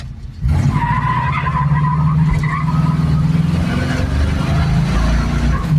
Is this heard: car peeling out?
yes